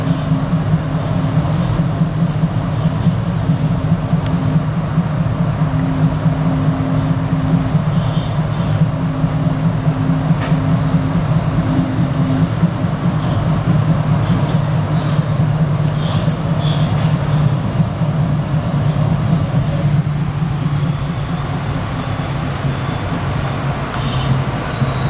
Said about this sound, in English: now arriving at Wachusett Station, Wachusett, last and final stop